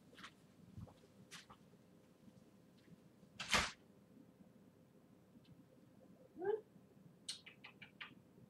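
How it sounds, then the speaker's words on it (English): A cat indoors gives a few faint meows and small calls, spaced apart amid quiet room noise and light knocks. "I have to let one of the cats out."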